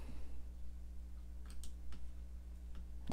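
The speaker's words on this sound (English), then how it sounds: "I'm just clicking through here" Soft, sparse computer mouse clicks, a few scattered taps over a low steady electrical hum, quiet and close, with no speech.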